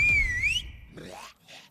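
A single whistle in a zombie movie, a clear sliding tone that dips and rises, followed by a few fainter rising squeaks and noises, with no talking.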